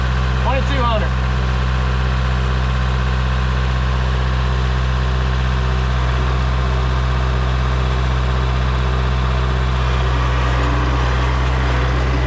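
A tractor engine runs steadily at around 2,000 rpm, a loud, constant low drone with a brief voice near the start.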